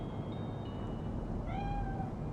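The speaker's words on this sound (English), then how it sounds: "Chill, just a cat." A cat meows in Cyberpunk 2077, a single drawn-out, rising then falling call arriving late and standing clearly above a steady low ambient hum of the game's city setting.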